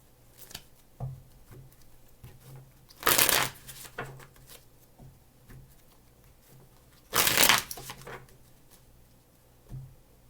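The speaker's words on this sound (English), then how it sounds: "Three shuffles, please." A deck of tarot cards is riffled in two brisk, loud bursts a few seconds apart, with quiet handling sounds between them and no speech.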